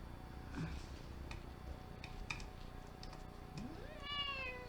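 A cat meows a few times, short cries spaced apart, with a longer drawn-out meow near the end over soft indoor background noise.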